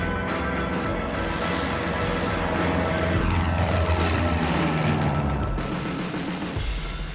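A loud, steady aircraft engine roar that rises in pitch as it builds, sustained throughout with no voices, a plane taking off down a runway in Malaysia.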